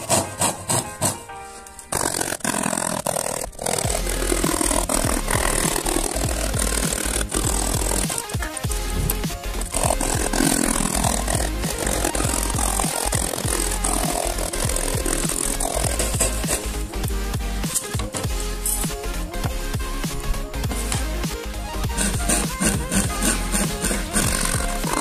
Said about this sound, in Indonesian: Lanjut kita gergaji ya guys.